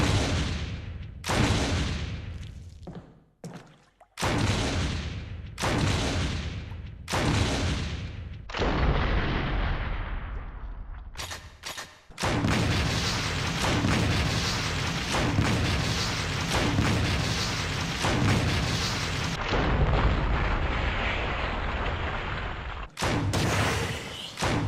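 Repeated heavy explosions in the Resident Evil REmake video game, loud booming blasts about every second or two with decaying rumbles, later merging into a sustained roar of overlapping detonations before a final burst.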